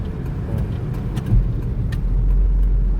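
Cars idling and creeping along a jammed road at evening rush hour, with a continuous low engine rumble close by and occasional swells as vehicles rev and pass.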